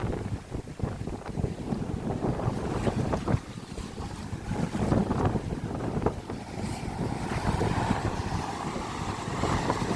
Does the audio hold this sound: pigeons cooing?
no